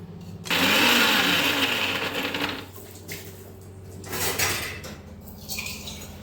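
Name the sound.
mixer grinding ginger garlic paste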